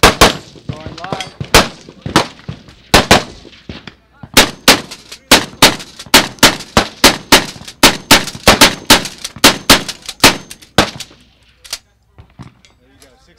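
A pistol is fired on a shooting range at a gun show event, a long string of sharp, loud close shots in a fast, steady rhythm with brief gaps between them, and a voice at the start.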